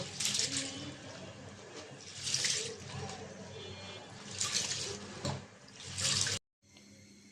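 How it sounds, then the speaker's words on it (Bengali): Lentils and rice being washed together in water for thin khichuri, with running and sloshing water that swells in repeated surges of rinsing, close and fairly loud, before a sudden stop near the end. "একসাথে ধুয়ে নিব"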